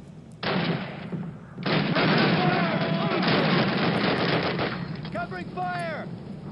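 Heavy gunfire in Call of Duty: United Offensive during an ambush, a sustained loud barrage of shots and bursts lasting several seconds, with shouted voices and whistling or ricochet sounds toward the end.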